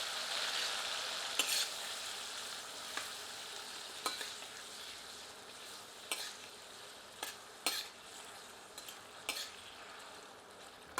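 Chopped tomatoes frying in oil over medium heat for a potato curry, a constant bright sizzle punctuated by repeated spatula scrapes and clinks against the pan at irregular intervals, close by.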